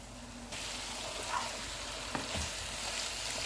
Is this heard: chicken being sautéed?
yes